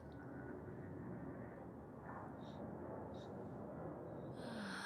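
A steady low roar of an airplane passing overhead at an RV park, broad and continuous, with faint brief chirps and noises on top.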